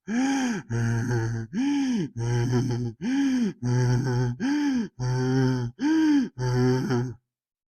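A voice imitates heavy monster panting: about ten long, rasping breaths in a steady rhythm, close and loud, then silence.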